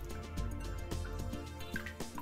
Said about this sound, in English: So I dip my cloth in water.